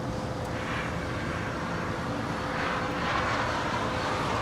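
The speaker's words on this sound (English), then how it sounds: "we do have a Northern Air Cargo 767-300ER, flight 8200 coming in from Seattle, about to fly over our head here at LAX" Northern Air Cargo Boeing 767-300ER arriving from Seattle passes overhead on approach to LAX: a steady, moderately loud jet rumble that grows slightly toward the end, with some wind noise and no talking.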